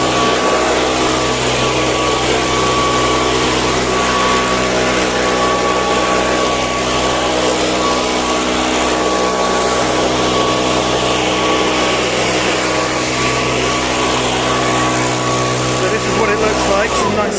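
Lawn mower running steadily while mowing grass and picking up clippings in a garden, a loud constant engine drone with a persistent hum throughout.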